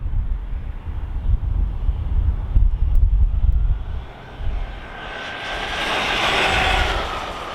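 A Losi Tenacity DB Pro RC car on a 15T pinion and 3S power makes its third top-speed pass, a rising electric whine sweeping in over steady wind rumble and building loud toward the end.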